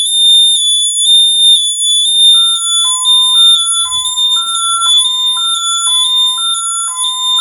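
An ADT SafeWatch Pro 3000 security system alarm sounds at the front door: a loud, continuous high-pitched electronic beeping, joined partway through by a lower two-tone chime repeating in a steady alternating rhythm.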